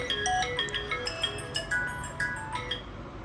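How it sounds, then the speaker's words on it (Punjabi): A mobile phone plays a tinkling melodic ringtone indoors, a clear repeating tune of bright notes heard alone and fairly close, with no talking over it. "ਚੰਨੀ ਦੇ ਪੁੱਤ ਦਾ ਫੋਨ ਆਉਣ ਆ"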